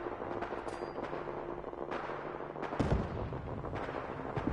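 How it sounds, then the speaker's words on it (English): Gunfire in the video game Fallout 4, a few distant, muffled shots and one heavier boom set in a dense, continuous wash of in-game ambience. "Oh, I hear gunshots."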